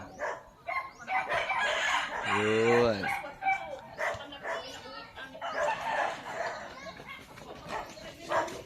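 A rooster kept by village children crows once, loud and close, in a provincial village at Christmastime, rising over people chatting and a dog barking nearby.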